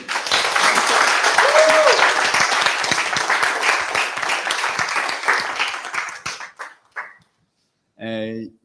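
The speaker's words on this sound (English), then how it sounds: "let's get another round of applause for Naomi" Audience applause for the speaker Naomi at a PHP Sussex meetup, a dense, loud round of clapping that runs about six seconds, then thins to a few scattered claps and dies out before a voice speaks.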